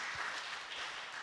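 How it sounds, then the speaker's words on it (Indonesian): A church congregation claps together during a worship service, a soft, distant wash of applause that stays steady and even throughout the short moment. "boleh beri tepuk tangan kemuliaan buat Tuhan Yesus"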